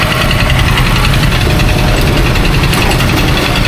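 A motorcycle engine with a suspected bad connecting rod runs steadily and loudly, a dense continuous mechanical clatter with knocking vibration throughout, no voices over it.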